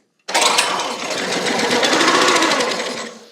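A small gas engine on a Tractor Supply wood splitter runs on choke, kicking in abruptly and chugging in a rapid, uneven patter that sputters close by for about three seconds.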